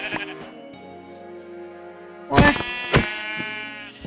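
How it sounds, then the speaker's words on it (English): Sheep bleat in the Minecraft video game, a long wavering bleat followed by sharp clicking hits and a few shorter bleats, close and clear with no talking. "I'm sorry, sheep. You must die for the effect."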